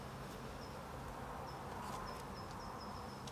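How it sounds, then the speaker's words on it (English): Honeybees buzzing around a backyard hive, a faint, steady drone of many wings with brief higher whines as single bees pass close, no voices. "what about these bees flying over here?"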